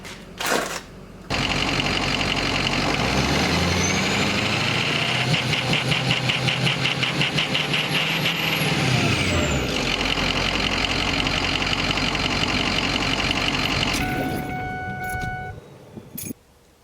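A truck engine running rough at close range, a loud uneven idle with a knocking, ticking pulse that rises and falls over several seconds before cutting off abruptly.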